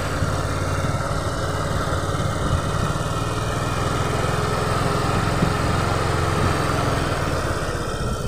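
A Honda Vario 125 scooter engine, after a stalling fault with error code 12, runs steadily and loudly, a continuous buzzing idle with a slight rough pulse and no pauses.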